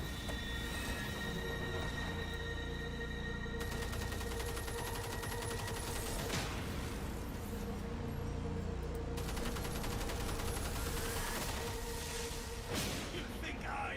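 Sustained video game gunfire, dense and continuous volleys with bursts and whooshes over about fourteen seconds, loud and close, with a voice speaking over the shooting.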